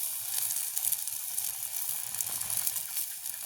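Steady, bright sizzling of salted mothakavalli tuber frying in hot oil in a pan, continuous crackle and hiss close by with no talking.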